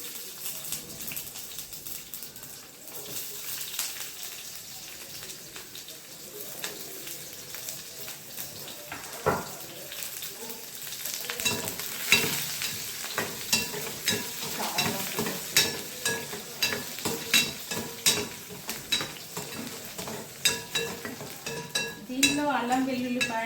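Onion with mustard and cumin seeds fries in a pan for a ridge gourd masala curry, a low continuous sizzle that grows busier with popping crackles and utensil clinks, close and fairly quiet, with no talking.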